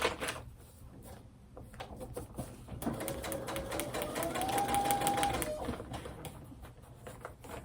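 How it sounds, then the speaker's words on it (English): A sewing machine stitches along a marked line on braid paper, running steadily in close, rapid bursts with a rising whir through the middle, and some faint background noise. "we're going to be sewing on this line"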